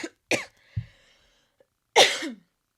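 A woman coughs in a quiet room: a short dry cough, a throat-clearing catch, then a louder, harsher cough after a brief pause, alone with no talk.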